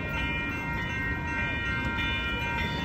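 A train rumbles past near the San Diego Comic-Con grounds, a loud, continuous roar with steady rail noise and a high metallic whine throughout.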